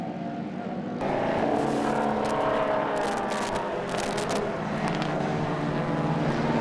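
Race cars lapping Carco Raceway, a Lotus Cortina among them, their engines droning loud and steady from start to finish, swelling slightly as the field passes close by.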